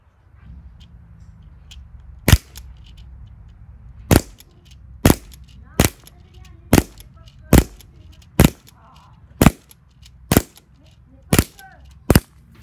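Sharp rifle shots ring out one at a time at uneven intervals outdoors while a new gun is sighted in, about eleven loud cracks with quiet gaps and faint background noise between them.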